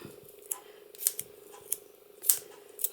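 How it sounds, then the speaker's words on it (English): Cutter Bee non-stick scissors snip paper in a handful of short, crisp cuts spaced about half a second apart, close and quiet, while Christmas cards are being made. "I'm using my Cutter Bee non-stick scissors to do that"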